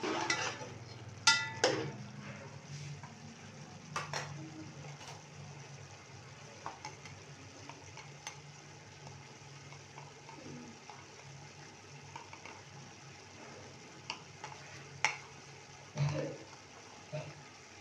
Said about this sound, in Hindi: देखिए मसाला भुन रहा है